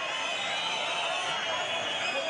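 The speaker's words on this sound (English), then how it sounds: "Boos from the crowd." An arena crowd boos through a steady, dense roar at a Juergen Braehmer vs Eduard Gutknecht boxing match, a continuous wash of jeering voices lasting the whole moment.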